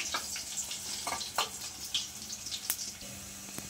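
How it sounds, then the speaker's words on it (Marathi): Crushed garlic, with curry leaves, sautés in hot oil in a kadhai for a Konkani-style val, vangi and potato bhaji, giving a steady close crackle with a few soft spatula scrapes and no voices. "एक 2 मिनिटासाठी आपल्याला तेलामध्ये लसूण परतून घ्यायचा आहे।"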